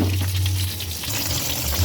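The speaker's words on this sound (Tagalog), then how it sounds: "Hayaan muna natin siyang kumulo." A pot of mung bean stew coming to a boil, a soft bubbling and simmering close by, short and steady.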